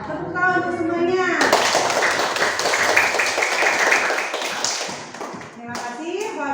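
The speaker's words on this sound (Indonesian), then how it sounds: "Tepuk tangan untuk semuanya." A school class claps their hands together in a loud, busy burst lasting several seconds, with children's voices chattering around it before and after.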